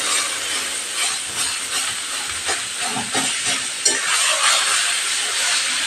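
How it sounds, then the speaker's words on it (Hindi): Chunks of bottle gourd stir-frying in hot ghee, giving a loud, steady sizzling hiss that swells and eases, with faint scraping and clatter from stirring. "घी के साथ थोड़ा स्टेयर फ्राई किया जा रहा है"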